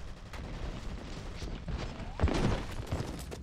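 Submachine gun or assault rifle fire in the shooter F.E.A.R. rattles out in scattered bursts over game ambience, with a louder cluster of shots and thuds near the end.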